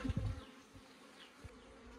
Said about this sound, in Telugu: చూడండి నా లోపల దూరిపోయింది ఈగ